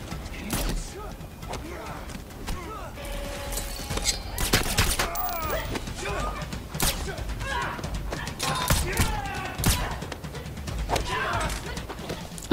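Rapid bursts of movie gunfire from John Wick 2, with many gunshots cracking out in quick succession alongside thuds and clattering impacts, loud and dense throughout with dialogue and voices mixed in.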